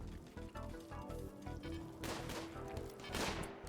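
Turrets fire at attackers in Rimworld: rapid bursts of small pops, faint and somewhat distant, over a steady game music bed, with two louder noisy surges of gunfire in the second half.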